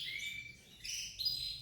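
Several birds in a breeding aviary chirp and tweet in bright, overlapping high calls, fairly close but soft, with no talk.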